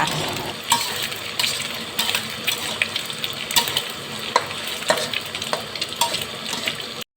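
An egg fries in oil in a pan and is broken into small pieces, giving a close, busy crackle with repeated scraping taps and clinks of a utensil throughout.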